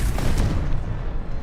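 A Confringo fire-blast spell from Hogwarts Legacy erupts as a thick, booming rumble, loud and sustained with repeated crackling impacts layered over a deep low end, and no talking.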